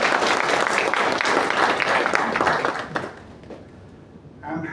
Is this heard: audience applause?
yes